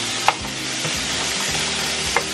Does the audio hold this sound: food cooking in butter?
yes